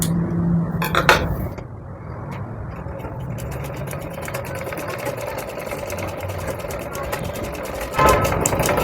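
A sewing machine running close by as it stitches a tuck on a blouse, giving a steady rapid mechanical whirr after a few clicks at the start, while someone talks over it.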